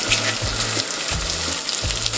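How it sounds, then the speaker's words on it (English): Rice fries in hot oil for Mexican sopa de arroz, a loud, steady sizzle with a spoon stirring rhythmically through the pan and no talking. "Frying the rice in the oil will help you get it to bloom for a delicious fluffy rice"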